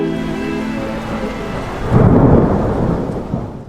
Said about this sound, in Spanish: la lluvia tamborileaba suavemente sobre el cristal